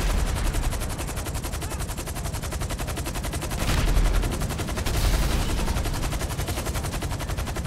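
Rapid automatic gunfire in a video game, dense and continuous bursts at close range, loud and sustained with brief surges in intensity.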